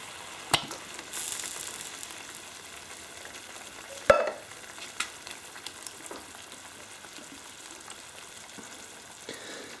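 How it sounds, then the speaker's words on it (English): Canned tomatoes go into a hot pan holding a sizzling meatball base. A steady, close frying hiss runs throughout, broken by a few sharp knocks and splashes. No one speaks. "Now I'm also going to put in the cans of tomatoes."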